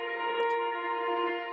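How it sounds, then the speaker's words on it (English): A sustained synth pad for a stutter house track, holding a steady chord of bright stacked tones at moderate level, with a couple of faint high flickers early on, played alone. "For pads, I've used two different sounds."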